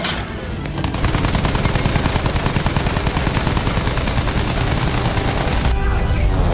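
Sustained automatic gunfire from the Battlefield 1 World War I campaign, loud, dense and continuous rapid shots with booming impacts, close and unbroken for several seconds.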